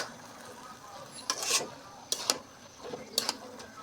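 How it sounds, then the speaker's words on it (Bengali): A spatula scrapes and stirs bottle gourd greens with fish in a pan, making three or four short rasping bursts over a faint background hiss with no voice present. "ভালোভাবে নাড়তেছি যাতে শাকের সাথে মাছগুলো খুব ভালোভাবে মিশে যায়"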